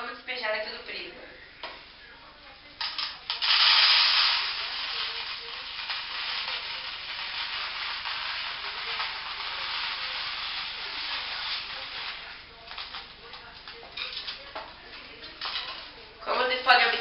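Granular material is poured from a pyramid into a prism for a maths volume comparison, a long continuous hissing pour with faint ticking, close and fairly steady, under a voice talking at the start and end.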